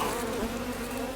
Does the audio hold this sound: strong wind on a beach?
no